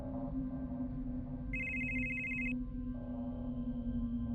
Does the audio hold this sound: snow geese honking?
no